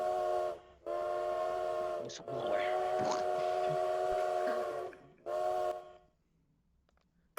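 A train whistle sound effect blows in long, steady blasts, broken by short gaps, then fades out, leaving near silence.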